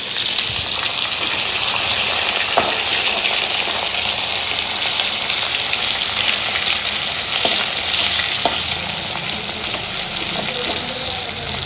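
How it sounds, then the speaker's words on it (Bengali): Spiny gourd slices fry in a pan with a loud, steady sizzling hiss and occasional faint knocks from stirring, close by, with no talking. "এদিকে কাঁকরোল ভাজা বসিয়ে দিয়েছি"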